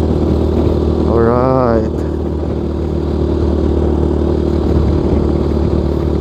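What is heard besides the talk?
Rusi Sigma 250 motorcycle engine with stock exhaust pipe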